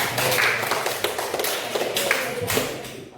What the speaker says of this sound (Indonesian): Tepuk tangan buat Hasim betul semua.